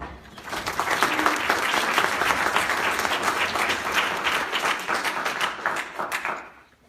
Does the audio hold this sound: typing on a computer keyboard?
no